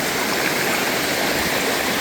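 The Guaxinduba river rushes beneath a bridge near its waterfalls, a loud, constant roar of flowing water filling the air close by with no voices.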